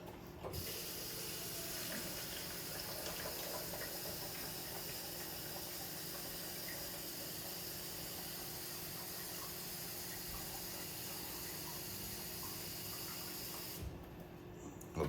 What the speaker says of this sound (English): Okay, so let's fill that up.